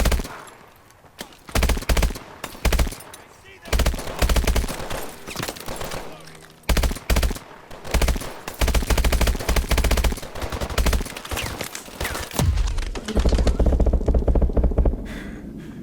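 Rapid automatic gunfire from the Call of Duty: Advanced Warfare video game, loud and near, arriving in dense bursts with brief pauses between volleys across the whole stretch.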